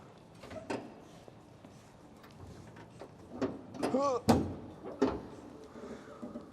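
The hood of a 1969 Cadillac with a 472 engine is lifted on its hinges, giving soft creaks and a few sharp mechanical clunks at close range, with brief quiet voice sounds in between.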